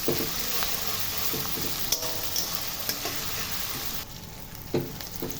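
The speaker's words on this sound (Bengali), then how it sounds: "কেটে রাখা পেঁয়াজ ঢেলে দিলাম।" Chopped onions fry in 5-6 tablespoons of hot oil in a dry wok, a steady loud sizzle running throughout with a few sharp clinks and scrapes of stirring, no voices.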